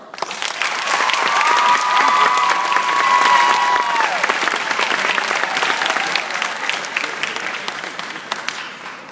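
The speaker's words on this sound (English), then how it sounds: "Graduates, please join me in a round of applause to thank the ones who have helped you get this far." A graduation audience gives a sustained round of applause, dense clapping swelling over the first seconds and holding steady, with a brief whistle-like tone early on and scattered voices beneath.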